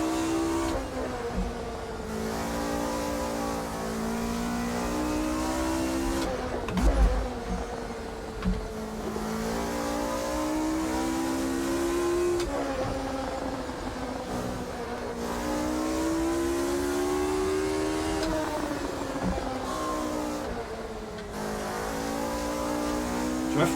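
A race car engine in the Automobilista 2 racing game on the 1971 Nürburgring circuit, revving up and down through gear changes in repeated rising whines, loud and steady throughout.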